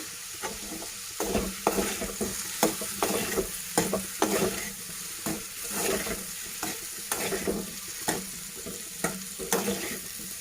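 Curry leaves sizzle steadily in a hot pan while a utensil scrapes and stirs in irregular strokes, close and fairly quiet, with no voices.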